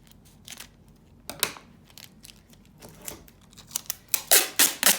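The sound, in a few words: clear packing tape being pulled and handled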